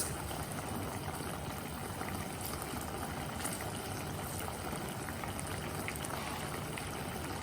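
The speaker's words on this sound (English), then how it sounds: "And then lastly I'll add the rice." A pot of water at a rolling boil for potato cauliflower pulao as rice goes in, giving a steady, close bubbling hiss that runs unbroken throughout with no talk.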